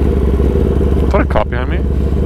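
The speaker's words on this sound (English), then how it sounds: "Let's practice our emergency braking." Engine of a liter-class sport motorcycle at night, a loud steady low rumble near the mic throughout, with a voice cutting in briefly over it.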